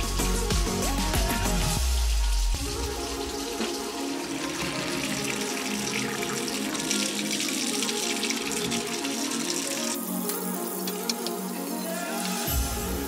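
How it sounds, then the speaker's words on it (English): Tap water runs steadily over cooked sweet potatoes in a sink, a close, continuous splashing rush whose tone shifts as the flow hits the food, with no talk. "cool them in running water to stop the sweet potatoes from cooking further"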